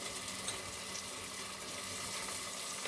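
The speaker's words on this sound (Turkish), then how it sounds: "Kettle'ımda sıcak suyum da var. Şimdi bunu güzelce uzatayım." Hot water poured from a kettle into a pot in a home kitchen, a soft, steady splashing hiss that runs evenly and quietly throughout without pauses.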